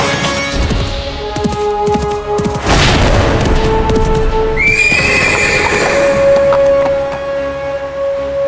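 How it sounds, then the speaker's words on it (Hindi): A horse whinnies loudly over thudding galloping hooves in a dramatized historical chase, with booming dramatic impacts and a sustained high neigh that carries through to the end, close and forceful. "चलिए राणा प्रताप के घोड़े से, चलिए चेतक"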